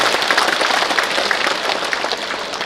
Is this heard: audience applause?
yes